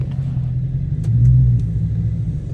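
A drift car engine rumbles loudly nearby, swelling briefly as it revs, then settling back to a steady low idle.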